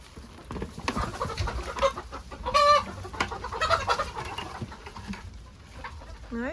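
Farmyard chickens clucking at close range outdoors as a storm approaches: a run of short, repeated clucks with a few louder, drawn-out calls in the middle, over a steady outdoor background.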